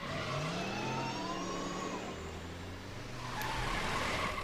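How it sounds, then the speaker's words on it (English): A car engine revs hard with rising and falling pitch as tires skid in Telltale's Back to the Future game, loud and continuous, swelling again near the end with a brief sharp squeal. "This can't be the car."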